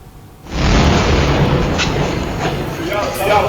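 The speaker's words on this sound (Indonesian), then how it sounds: "Ledakan besar terjadi usai serangan dilakukan oleh Israel." An Israeli strike in Tyre, southern Lebanon, sets off a sudden loud blast that swells into a sustained, rolling roar of rumble and debris, heard at a distance and lingering for several seconds.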